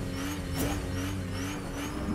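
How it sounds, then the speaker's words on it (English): Cars in the Fortnite video game rev and drive nearby, a steady engine drone with rising and falling tones that stays loud and continuous throughout the short stretch, with no talk over it. "What are you guys doing in the cars back here? They're so loud."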